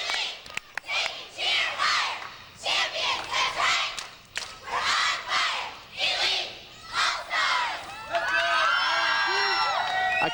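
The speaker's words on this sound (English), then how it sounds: "I kind of felt like they were yelling at me" Cheerleaders of the Iowa Elite Cheer Company shout loud chanted bursts in rhythmic groups at an outdoor festival in Cedar Rapids, with crowd noise around them and a pitched whistle-like tone near the end.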